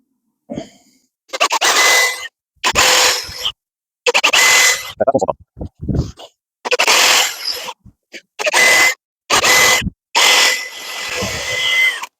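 A power drill bores screw holes into a wooden fence panel while a post-and-panel fence goes up. It comes as a series of short, loud, close bursts of whirring with brief pauses between them.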